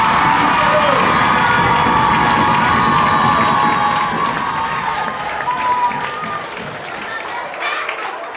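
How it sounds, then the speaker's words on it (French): A crowd of children cheers, shouts and applauds loudly and continuously at a school show, a dense roar of clapping and whoops that fades slightly toward the end. "que tous les enfants applaudissent bien fort les parents qui ont fait l'effort de venir"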